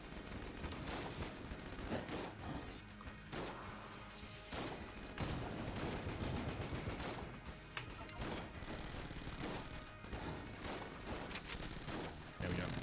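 Dense, constant rapid gunfire from a weapon in the video game Enter the Gungeon, crackling bursts and impacts layered with game effects, fairly quiet overall.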